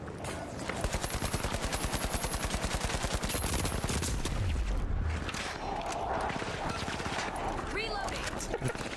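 Shotgun fire in The Finals: a fast, regular run of shots pounding out for a few seconds, then scattered later blasts and game effects, with players talking over the fight.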